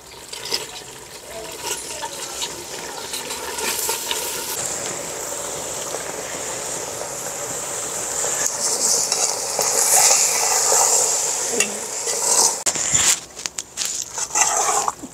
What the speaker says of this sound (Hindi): तो अब मैं डाल रही हूँ जी इसमें चावल।